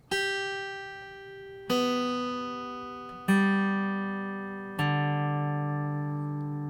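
Four guitar strings plucked one at a time, each note ringing out and slowly fading before the next, clear and close with no talking.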